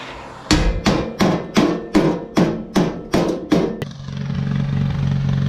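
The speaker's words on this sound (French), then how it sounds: "Je vais chauffer au chalumeau, tout simplement, et taper au marteau." A hammer strikes a blowtorch-heated metal bar from a rotary tiller, about ten sharp ringing blows in a steady rhythm, close and loud, followed by a low engine-like hum.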